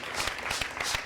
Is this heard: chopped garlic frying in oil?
no